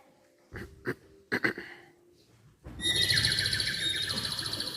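A songbird sings in a fast, bright, continuous trill that starts suddenly after a few isolated sharp bursts and quiet gaps, then holds loud and close to the end.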